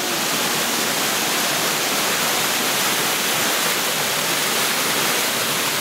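Upper level of Cascade Falls, North Carolina: water pours and crashes in a constant, dense hiss and roar, close and loud, unbroken for several seconds without any talking.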